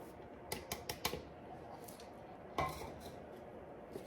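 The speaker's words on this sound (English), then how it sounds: "we're going to combine all the ingredients into this bowl, and it is 1 cup of flour." Flour and other fry bread ingredients are added to a mixing bowl, producing a few quiet clinks and taps of utensils against the bowl, close and sparse, with no talking.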